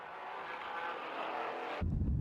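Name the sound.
Porsche Cayman flat-six engine in a racing video game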